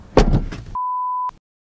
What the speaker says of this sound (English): He closed the door on me.